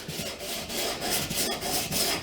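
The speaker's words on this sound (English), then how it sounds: "I'm just sanding this, you know, just letting the block do the work" Sanding block rubbed by hand along a wooden rifle stock with light pressure, a steady close scratchy rasping that keeps going without pause, slightly rising and falling in strokes.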